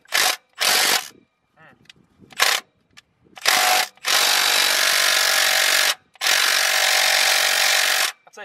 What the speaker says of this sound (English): Chrome sockets. Impact gun.